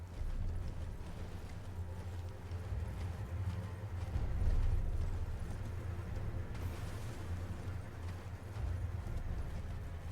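Torrent, the horse in the Elden Ring video game, gallops with steady, loud hoofbeats over a low rumbling game soundscape, continuous through the whole stretch with no speech.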